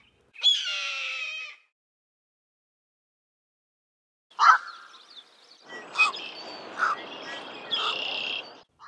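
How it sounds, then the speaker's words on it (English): A red-tailed hawk gives harsh, raspy long-distance screams, one drawn-out call, then after a pause a cluster of loud rasping bursts, clear and close against near silence. "long distance scream, "Kier!" of the red-tailed hawk"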